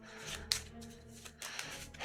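Playing cards from a Marvel Champions card game being shuffled close by, a steady papery riffle and rub lasting about two seconds with a couple of sharper snaps, no talking.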